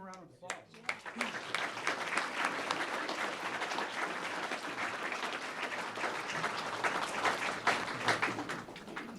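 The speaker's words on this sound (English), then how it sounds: "Let's give them a round of applause." Audience applause at a police service awards ceremony honoring officers, a sustained round of clapping that swells quickly and holds steady throughout.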